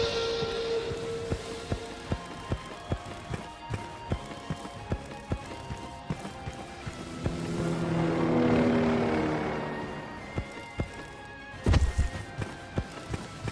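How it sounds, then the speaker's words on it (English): A helicopter in the Ashes Afterglow video game flies away, its rotor hum swelling into a broad whooshing pass before fading, over steady rain-like ambience and a regular pattering, with a sharp thud near the end. "that was a helicopter bugging out"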